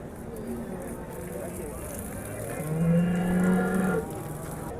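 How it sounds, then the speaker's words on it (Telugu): A young, pregnant first-calf cow at a village livestock market in Husnabad moos loudly and close for about a second, her low drawn-out call rising over a busy background of market chatter and voices. "తొలి దూడ అండి ఇది సూడితోడు ఉంది"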